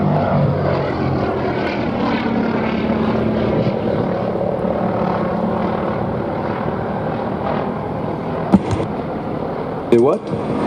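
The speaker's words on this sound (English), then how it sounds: "it's delightful to be able to look at this old biplane tracing circles in the sky." An old biplane circles overhead at the Duxford air show, its engine droning steadily and fairly loud throughout, with a brief knock near the end.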